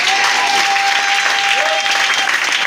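Loud, dense applause from a church congregation at a Pentecost service, sustained and even throughout with a faint held tone underneath.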